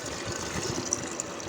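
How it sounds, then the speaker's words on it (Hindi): Cold water splashes and trickles steadily into a container for golgappa pani, a continuous close pour with faint hiss and a couple of small clinks. "और इसमें डालेंगे हम ठंडा पानी"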